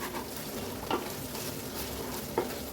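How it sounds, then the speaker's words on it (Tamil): Mint and coriander leaves sauté in oil for chicken biryani, giving a close, steady hiss of sizzling with two brief soft stirring knocks and no talk. "இது நல்லா இந்த ஆயிலில் வதங்கணும்."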